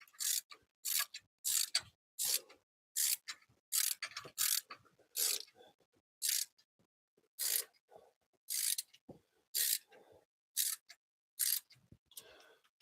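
A ratchet cranks tight bolts into a limousine alternator in a series of close, loud ratcheting bursts with short pauses between them, with no talk.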